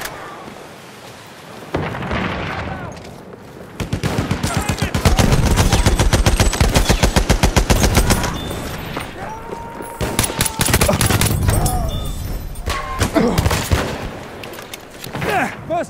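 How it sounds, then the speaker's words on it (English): Rapid machine gun fire on the Monte Grappa map of the video game Battlefield 1 during a team deathmatch, loud rattling bursts amid booming explosions and battlefield din, with voices shouting over the chaos. "Enemy machine gun, sighted!"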